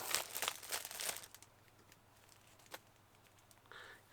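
Cellophane shrink wrap on a Blu-ray box crinkles in a dense, close burst for about a second, then a few faint scattered rustles and a brief late crackle follow, with no speech.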